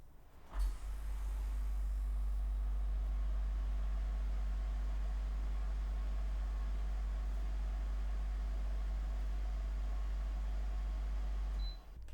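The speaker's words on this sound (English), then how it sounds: "I'm going to turn on the AC unit on the other end of my room" An air conditioning unit runs at the far end of a room, a steady low hum with broadband airy hiss that continues evenly for about eleven seconds before cutting off, with no talk.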